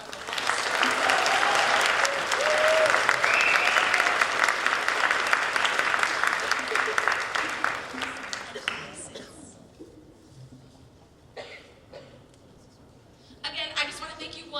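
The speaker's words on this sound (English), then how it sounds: "So can we just celebrate these students one more time with a round of applause?" Audience at a 7th grade band concert applauds the students in a steady, dense round of clapping with some cheering. It dies away after about nine seconds, leaving sparse claps and voices talking.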